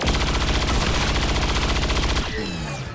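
A Rupture shot fires in XCOM 2, a loud, rapid burst of machine-gun style gunfire rattling continuously for about two seconds, then cutting off into a descending mechanical whine.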